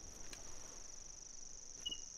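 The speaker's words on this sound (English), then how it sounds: "That's a cricket" A cricket chirps at night in TheHunter: Call of the Wild, a high steady trill running continuously and faintly over quiet outdoor ambience, with no talking.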